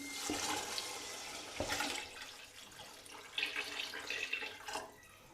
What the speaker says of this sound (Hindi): इसमें आप पानी ऐड कर दूँगी।